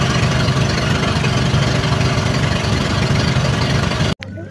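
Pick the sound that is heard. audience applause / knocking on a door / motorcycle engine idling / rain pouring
motorcycle engine idling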